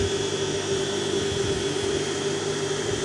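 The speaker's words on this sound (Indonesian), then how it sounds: "Ini dinamo sudah berputar dengan RPM tinggi." High-RPM whine of a sewing machine motor spinning freely, a loud, steady, close hum with a sustained tonal drone and no pauses or voices.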